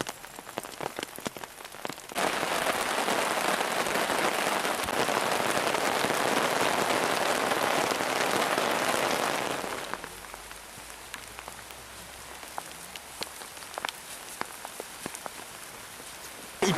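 Steady heavy rain pours down at a scout camp for several seconds, a dense hiss that cuts off sharply, leaving scattered drips and faint background noise.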